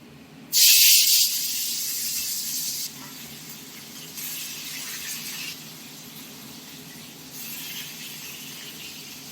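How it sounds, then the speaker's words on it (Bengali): Bata fish dropped into hot mustard oil, bursting into a loud, close hiss that eases into steady spitting sizzle with a few later surges; no talk over it. "তেল ছিটে গেল মাছ ভাজা হচ্ছে"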